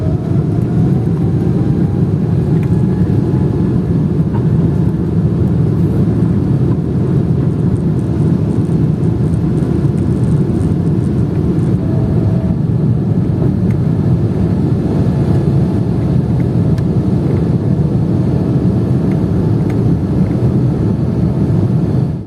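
A Turkish Airlines jet on the runway at Istanbul gives a loud, continuous low roar of engines and rushing air as it takes off and climbs out, heard steadily from inside the cabin.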